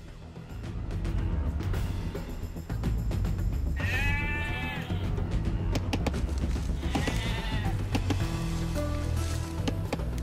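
Sheep bleat in the video game Age of Empires 2: several wavering, nasal bleats come over a steady bed of game ambience and rustling, first one call, then a few more overlapping a moment later.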